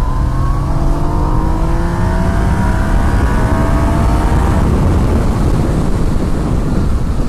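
A Yamaha Niken three-wheeled motorcycle accelerates hard in third gear from about 40 mph, its engine note climbing in a loud, steady pull with heavy wind roar over it the whole time.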